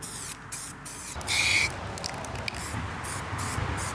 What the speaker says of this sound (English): Do a little test spray.